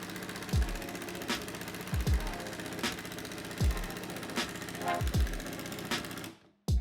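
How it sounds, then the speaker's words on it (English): Cordless impact driver sinking a screw at three speed settings: a steady whirring motor broken by sharp, low thudding bursts every second or so, close and moderately loud, ending in sudden quiet. "So I'm going to drive this screw using setting 1, then setting 2, then setting 3."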